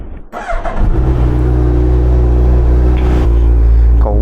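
A Harley motorcycle engine fires up cold after a brief crank and settles into a loud, steady, deep rumbling idle for warm-up, close to the listener, with no speech.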